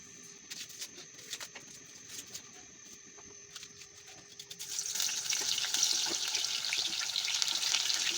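Onion tadka frying in a pan at home, crackling softly at first with light stirring taps, then sizzling louder and steadily for the rest of the clip, close up with no talk.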